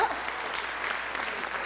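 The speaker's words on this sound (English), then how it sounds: "You have to give me an applause" Brief burst of audience applause at a one-woman comedy show, steady clapping lasting under two seconds at moderate volume.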